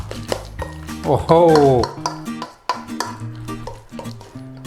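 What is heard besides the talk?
stirring lime juice into mashed avocado for guacamole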